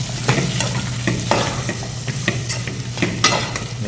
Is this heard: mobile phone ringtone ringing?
no